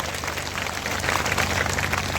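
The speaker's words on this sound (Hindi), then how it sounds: "इसलिए एक बार जो मातृशक्ति उपस्थित है उनके लिए भी जोरदार ताली बजाएंगे सब" A crowd at a Hindu gathering in Rajgarh applauds steadily, a dense wash of many hands clapping that swells slightly toward the end.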